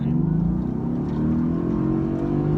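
A Mercedes-AMG GT S in Race Mode accelerating hard on the COTA Formula 1 circuit, its engine holding one gear with a steadily rising, loud roar close by and no shift across the stretch.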